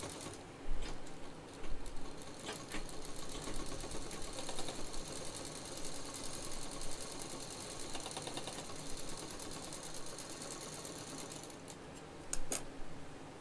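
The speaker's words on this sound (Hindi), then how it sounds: "सब पे डबल मशीन, क्योंकि इसके बाद हमें कोई सिलाई नहीं करनी है" A sewing machine runs in steady rapid bursts, double-stitching the seams of a handmade stylish handbag, its mechanical clatter close and continuous with brief pauses and restarts.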